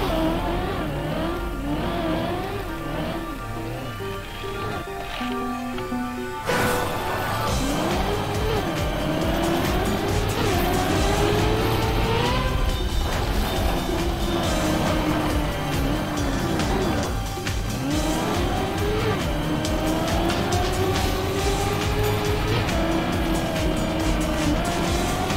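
A car in the Rogue Company video game drives hard, with a continuous loud engine roar, revving and repeated tire squeals and skids across about twenty-five seconds, joined by a sudden jolt early on.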